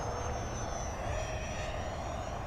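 An E-flite A-10 Thunderbolt II RC jet with twin 64mm electric ducted fans flies overhead, its steady high-pitched whine and airy rush held at moderate distance throughout.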